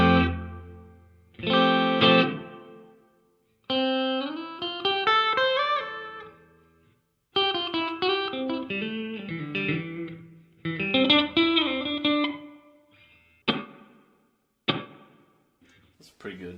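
Electric guitar phrases played through a Donner reverb pedal with decay set halfway, each burst of notes ringing out with a moderate tail that fades before the next begins.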